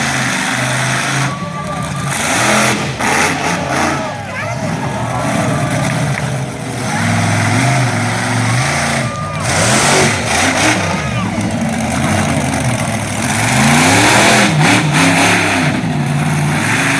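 Monster truck engine revving hard for wheelies at a monster truck show, repeated loud roaring surges and drops with an announcer talking over the engine.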